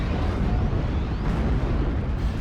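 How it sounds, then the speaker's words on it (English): Dense, continuous rumble of Calliope rocket artillery barrage explosions pounding a tree line in the World War II strategy game Steel Division: Normandy 44, loud and sustained, with overlapping blasts and no speech. "He's also going to be bringing up his Calliope, and that's going to be hammering this tree line."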